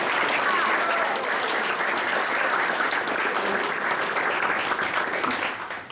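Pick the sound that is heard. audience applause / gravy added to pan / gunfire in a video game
audience applause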